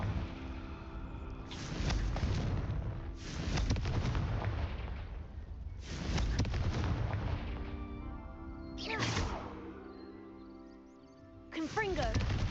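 A Confringo fire spell cast repeatedly in Hogwarts Legacy, giving about five loud, booming explosive blasts in an uneven rhythm, each swelling and fading over a continuous low rumble.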